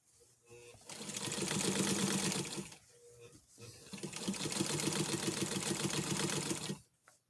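A sewing machine stitches in two long runs of rapid, steady mechanical chatter, separated by a brief pause, fairly close and alone.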